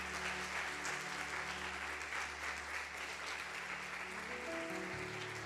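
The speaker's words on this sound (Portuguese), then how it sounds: "Você pode aplaudir o Senhor por essa palavra?" A church congregation claps steadily and continuously, a dense sustained round of applause filling the room, with soft keyboard tones held underneath.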